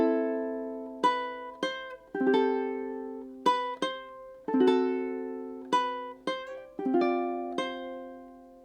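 A ukulele picks a four-measure run from a song, clean plucked notes and small chords struck one after another in an unhurried rhythm, each ringing out and fading, alone without speech.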